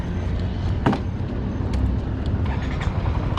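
Yamaha Smax 155 scooter riding along a city road, a steady engine and road rumble with wind, moderately loud and continuous, with one brief sharper noise early on and no talking.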